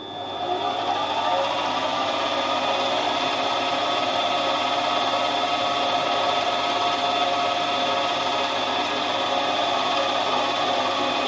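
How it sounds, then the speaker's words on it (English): A milling machine drills a slot down to its end depth on a rotary table setup, producing a steady, continuous grinding cutting noise that runs unbroken at even loudness throughout. "we start drilling to the end depth."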